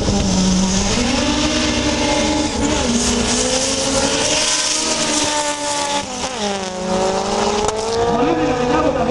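Two Opel cars launch hard at the start of a night drag race in Polykastro, engines roaring loudly with rising revs and gear changes, continuous and close throughout.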